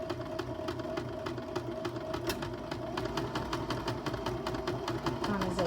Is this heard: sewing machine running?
yes